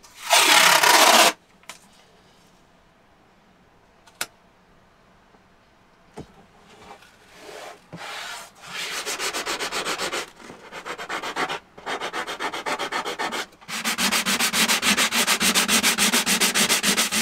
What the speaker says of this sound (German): jetzt haben wir mal grob die Klebereste abgeschliffen